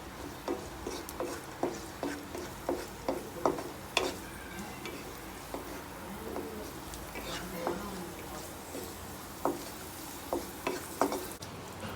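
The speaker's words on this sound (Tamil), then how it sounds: "கொஞ்சம் முந்திரி கலர் சேஞ்ச் ஆகிற வரைக்கும் ஃப்ரை பண்ணணும்." Cashews and raisins fry in a pan with a soft, continuous sizzle, punctuated by regular light ticks and taps of a spoon stirring, fairly quiet, with occasional speech in the background.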